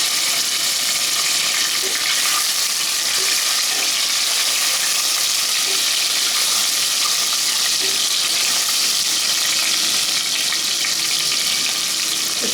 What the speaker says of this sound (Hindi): तो मैं अब इसमें डाल दूँगी मशरूम।